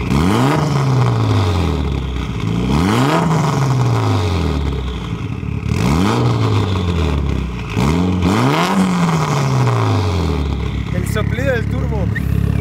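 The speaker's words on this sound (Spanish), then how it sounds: "Soplido del turbo." A Mitsubishi Evo's turbocharged engine is revved repeatedly on the street in Miami, each sharp climb in pitch falling away with a turbo blow-off hiss, loud and close, while people talk and react over it.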